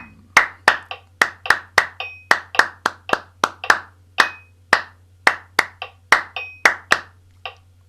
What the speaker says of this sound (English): even if you weren't necessarily clapping the rhythm, it will still warm you up